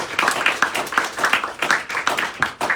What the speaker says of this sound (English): How about a round of applause for Mark Sanders, guys?